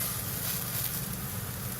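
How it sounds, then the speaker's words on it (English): Beef burger patty sizzling in a hot greased pan, a steady dense crackle that holds evenly close up for the whole stretch with no voices. "Then place a ball into the center. You should immediately hear sizzle."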